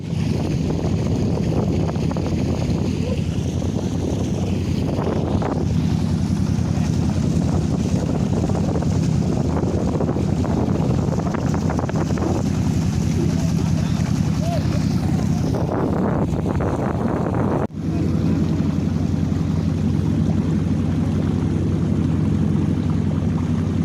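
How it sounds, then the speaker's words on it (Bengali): A country boat ride on a river at Patul, with a constant low engine or water rumble and heavy wind buffeting the microphone, loud and unbroken throughout, with a brief dropout near the end. "আমরা এখান থেকে নৌকা রাইড দিচ্ছি। এখন আমরা নৌকাতে ঘুরবো।"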